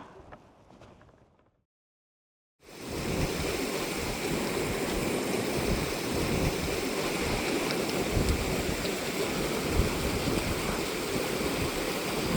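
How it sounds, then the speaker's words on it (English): Rain falls steadily on a dark evening hike in the Yukon, a dense, constant hiss that starts abruptly after a brief silence and carries on without talk. "it's raining now as well"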